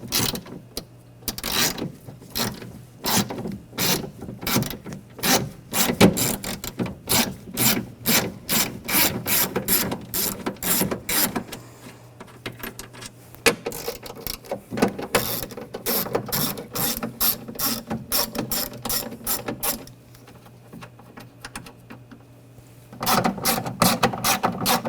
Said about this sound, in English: Using a 10mm socket, we're going to take the nuts off